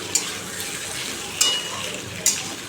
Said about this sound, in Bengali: ঘরে আলু ভাজা হচ্ছে আমাদের।